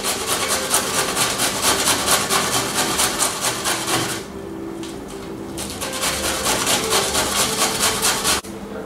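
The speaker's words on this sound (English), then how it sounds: "Now I'm going to grate up a piece of white cabbage." White cabbage is grated on a hand grater in a home kitchen, loud close rhythmic rasping strokes in quick repeated runs with a brief pause midway, no talking.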